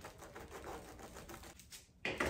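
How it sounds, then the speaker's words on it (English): A knife cuts through a sandwich at home before toppings are added, giving a rapid series of close, crisp crunching and sawing strokes, followed by a louder scrape near the end. "So I'm just gonna cut the sandwich,"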